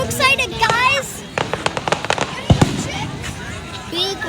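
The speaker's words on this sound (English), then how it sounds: "I'm trying to show you the fireworks." A fireworks display seen from a crowd, with a rapid string of sharp crackling bursts and one heavy boom, all under excited voices and chatter from people close by.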